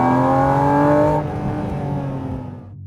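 A 2023 Porsche 718 Cayman GT4 RS engine revs loudly with a strong tonal growl, then the pitch drops and the sound eases off as the car decelerates.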